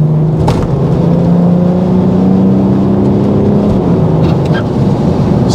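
A BMW 335d mono turbo car drives and accelerates, its loud, close engine drone rising steadily in pitch under road rumble and wind.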